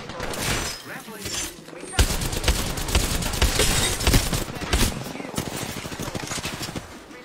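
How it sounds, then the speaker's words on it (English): Automatic gunfire in the battle-royale shooter Apex Legends, dense rapid bursts and rattling volleys that run almost continuously, loud and close, with a brief lull near the start. "The enemies are shooting at me."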